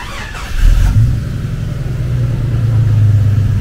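Jeep Cherokee XJ Limited inline six-cylinder with header exhaust starting up, a brief cranking burst followed by a loud, steady low idle rumble close by.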